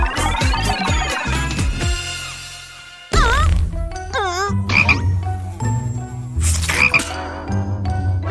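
A frog croaks in a kids' cartoon, giving loud, close, warbling calls in bursts over bright cartoon music and sound effects.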